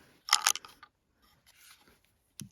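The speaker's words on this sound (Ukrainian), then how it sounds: "Тепер пістолет можна розібрати шляхом е, зводу затвора назад і вверх ось таким рухом." The slide of a Blow TR-92 starter pistol is pulled back and up for disassembly, giving a few close metallic clicks and scrapes, followed by a short sharp snap near the end.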